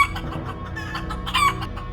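Chickens in a Bangla cartoon cluck busily, with a brief crowing-like squawk rising midway, loud and near, with no voices.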